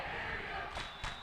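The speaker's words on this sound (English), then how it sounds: "And the Oswego crowd answers right back." Oswego crowd cheering at a girls varsity volleyball game against Fulton, a dense roar of voices filling the gym with a couple of sharp thumps, all continuous.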